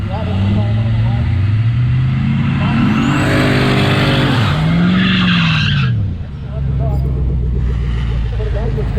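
A Grand Marquis drag racing down the strip, engine roaring loud and close with tires skidding and rising revs, cutting off near the end before another car's rumble continues behind a voice talking.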